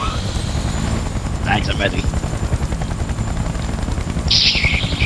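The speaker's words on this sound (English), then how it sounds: "Helicopter! Get to the chopper!" Helicopter rotor chopping steadily in the Battlefield Bad Company 2 video game, loud and continuous beneath gunfire bursts and someone speaking briefly.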